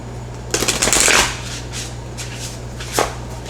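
A deck of oracle cards is shuffled by hand: a half-second burst of riffling and slapping up close, then a single sharp card snap a moment later over a faint steady hum.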